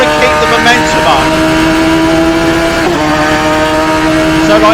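Radical SR3 XXR race car in the Assetto Corsa racing game, a loud, high-revving engine whine held steadily with pitch shifts as gears change, close and continuous.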